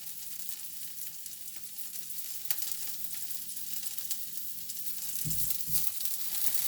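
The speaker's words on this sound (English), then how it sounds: "And fry it up." Cut potato wedges fry in a pan of oil with a soft, continuous sizzle, fairly quiet and close, with a couple of louder clanks near the end, no talking.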